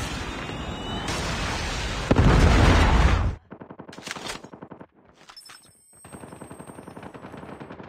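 A Call of Duty Mobile predator missile strike hits with a loud, broad explosive roar lasting a few seconds, then gives way to sharp, rapid bursts of automatic gunfire in the game.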